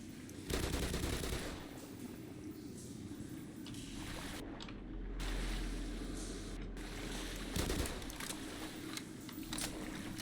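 Gunfire in the video game Black Mesa, a dense rattle of rapid shots with a few louder bursts over a steady rumbling game background, fairly quiet overall.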